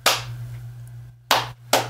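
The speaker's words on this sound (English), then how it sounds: "That's my sarcastic clap." Three slow, deliberate hand claps ring out sharply in a quiet studio, spaced more than a second apart with short decays between them.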